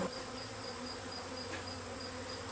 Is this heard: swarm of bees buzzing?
yes